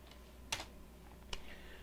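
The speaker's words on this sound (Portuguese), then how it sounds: "A gente vai digitar ipconfig /release." Two crisp, close keystrokes on a computer keyboard while a network command is typed into the command prompt, with soft room hum and no speech.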